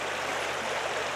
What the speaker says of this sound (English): So it is a beautiful little creek.